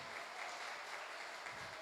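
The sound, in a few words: congregation applauding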